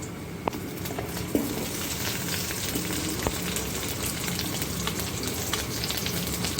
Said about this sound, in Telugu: ఉల్లిపాయ ముక్కలు వేస్తున్నాను.